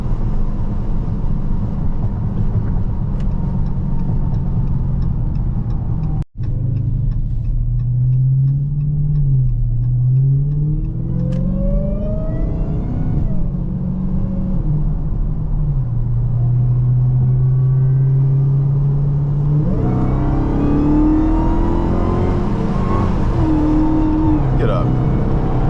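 A Dodge Charger Daytona Hellcat cruises on a highway, its engine a deep steady drone from inside the cabin that rises and falls through gear changes, swelling into a stronger rev near the end.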